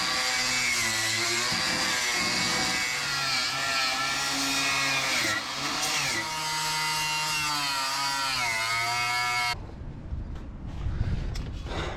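A power drill whines steadily while drilling out spot welds on a Nissan 240SX car body, its pitch wavering as the bit bites into the metal, close and loud, then it cuts off into scraping and handling noise.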